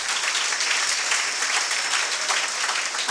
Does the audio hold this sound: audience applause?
yes